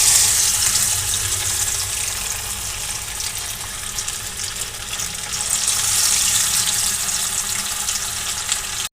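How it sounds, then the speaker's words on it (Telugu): Masala-coated fish pieces frying in a shallow layer of oil give a steady, close hiss and crackle of sizzling that holds evenly throughout with no talking. "చేపలు ఫ్రై అవుతున్నాయి."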